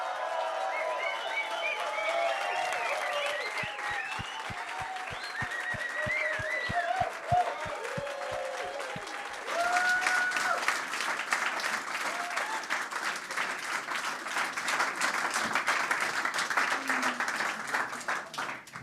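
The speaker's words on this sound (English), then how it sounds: "let's cheer for the winning goal for Benjamin, and do it as loud as you can" An audience at a speaking event claps and cheers loudly, starting with a few sharp isolated claps that swell into dense, continuous applause mixed with crowd noise, lasting well over ten seconds.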